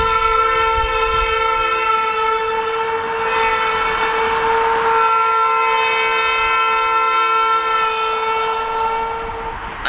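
Freight train horn honking in one long continuous multi-tone blast across the whole span, loud and nearby over the rumble of the passing rail cars.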